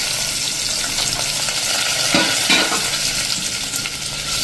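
Grated ginger and whole sprigs of curry leaves sizzle loudly in hot oil, a dense, continuous crackling hiss with a few stirring scrapes close by.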